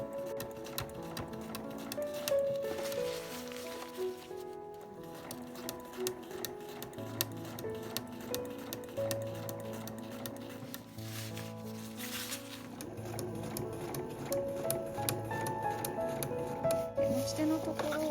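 A household sewing machine stitches a nylon tote bag, its needle running in steady rapid ticking bursts with brief pauses between runs, under someone speaking Japanese.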